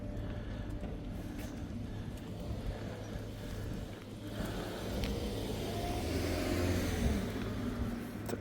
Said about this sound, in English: Wēta Workshop official tour bus.